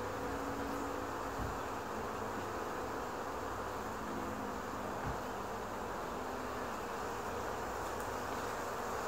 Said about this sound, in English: So, yep, all these bees are going like, this is not my queen.